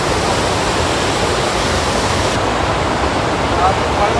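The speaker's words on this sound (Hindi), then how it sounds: "भातिंडा वाटरफॉल कत्री नदी के ऊपर है" Bhatinda waterfall on the Katri river, a steady loud roar of rushing water filling the whole stretch without a break.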